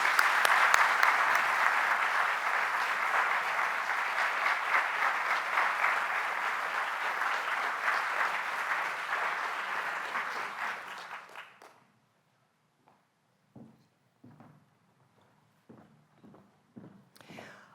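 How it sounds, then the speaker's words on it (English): An audience at a university awards ceremony gives an honoree a long, even round of applause lasting about eleven seconds. It fades out and gives way to quiet room noise with a few scattered footsteps. "A round of applause for Dr."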